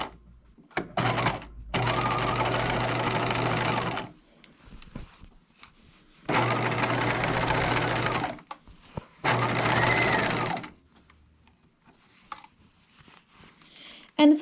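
A sewing machine understitches a pocket stay on a dress in three sustained runs of steady mechanical whirring, each lasting a couple of seconds, with quiet pauses and small handling clicks between them.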